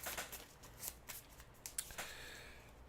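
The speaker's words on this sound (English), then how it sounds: "And shuffles the encounter deck." A deck of encounter cards being shuffled during a Marvel Champions card game, quiet riffling bursts and soft flicks in a close, hushed room with no talk.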